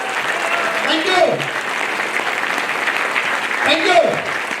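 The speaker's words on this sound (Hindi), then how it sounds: "खड़े होकर के सबसे जोरदार ताली बजनी चाहिए अपनी जगह पर खड़े होकर के" An audience at a club leader honour ceremony in Jamshedpur stands and claps in steady, dense applause, while a voice speaks over it in bursts.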